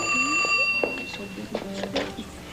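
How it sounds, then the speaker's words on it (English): A telephone rings with a bright, bell-like trill in the background, its sustained tones running beneath people talking over it. "That's the phone we're not going to answer."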